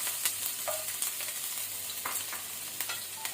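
Dry red chillies, garlic and ginger frying in hot oil give a continuous hiss and crackle, close to the pan, with a few brief scraping stirs breaking through the steady sizzle.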